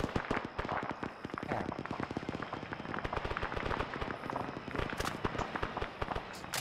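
Dense, rapid volleys of gunfire and booming blasts in the Arma 3 military shooter, a near-continuous crackle of loud shots with heavier thumps mixed throughout.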